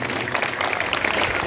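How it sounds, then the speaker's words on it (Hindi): Audience at a Bhagwat Katha gathering applauding, a dense, steady wash of many hands clapping together, loud and continuous throughout. "एक बार जोरदार तालियां उनके लिए बजाइए"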